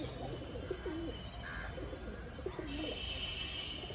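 A Nor pigeon, an old-generation homer with pale yellow eyes, gives soft low cooing phrases twice, faint and close, over a steady background hiss with a short chirp between.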